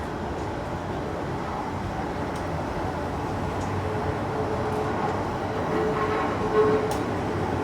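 A train rumbles steadily at St Pancras International station, a continuous low rolling drone with faint clicks, without talk over it.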